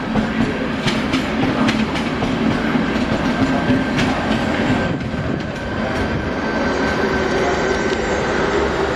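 Czech Railways passenger train 9415 on line S20 rolls past at a station platform in Čelákovice, a steady loud rumble with wheel clatter and rail noise holding for the whole stretch, with no voices.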